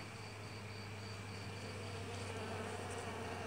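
Honeybees buzz inside a hive after being smoked. A dense, steady drone of many insects holds at an even level throughout, close and continuous, with no voices.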